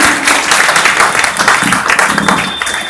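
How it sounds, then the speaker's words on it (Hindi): A crowd applauds loudly for a child at a Babasaheb Ambedkar Jayanti gathering in Kailash Nagar, Ghaziabad, with steady dense clapping filling the full three seconds. "बच्चे के लिए जोरदार तालियां।"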